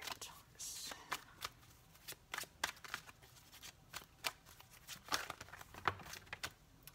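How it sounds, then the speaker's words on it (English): Soft, quiet riffling and flicking of tarot cards being shuffled, irregular bursts close by with faint low murmuring underneath. "Having trouble shuffling."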